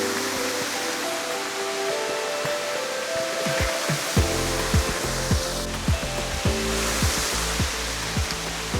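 Water pouring steadily at Henderson Falls, a pretty waterfall of about 10 metres in Great Otway National Park, running low. A continuous broadband rush fills the scene, with sharp thuds and knocks from around the camera in the second half.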